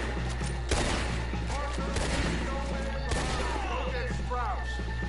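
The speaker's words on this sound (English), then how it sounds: "We still getting shot?" Sustained bursts of gunfire in Red Dead Redemption 2, cracking shots layered over a constant mechanical drone, running steadily through the whole stretch with no clear voices.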